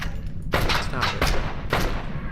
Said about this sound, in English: You're shooting me through that box.